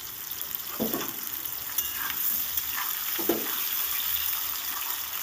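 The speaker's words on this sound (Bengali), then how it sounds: "এবার এই কড়াইয়ের তেলের মধ্যে দিয়ে দিচ্ছি লম্বা লম্বা করে কাটা আলুগুলো সবটা আলু আমি দিয়ে দিচ্ছি" Long-cut potato sticks frying in hot oil in a wok, a soft continuous sizzle with a few stirring scrapes near the start and middle, close and fairly quiet, no voices.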